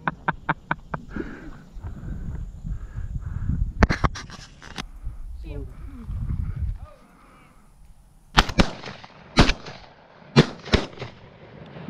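Shotgun blasts at doves on an opening-day dove hunt in Georgia: sharp, loud reports, a quick cluster of shots at the start and several more single and double bangs later, with people talking between them outdoors.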